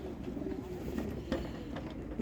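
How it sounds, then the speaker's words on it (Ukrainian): Large meat pigeons at a pigeon show in Ivano-Frankivsk, Ukraine, coo in low, repeated throaty calls amid a busy, noisy background, with a few louder coos standing out. "Гарні великі м'ясні голуби."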